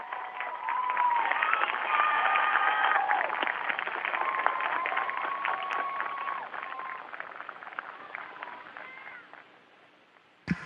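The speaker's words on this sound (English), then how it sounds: "Boys and girls, can we give them a huge round of applause?" Schoolchildren clap and cheer for astronauts speaking with them from space, a sustained, slightly muffled burst of applause and excited voices that slowly tapers off over about ten seconds.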